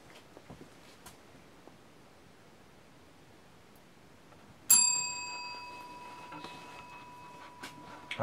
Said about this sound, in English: I ring the bell again.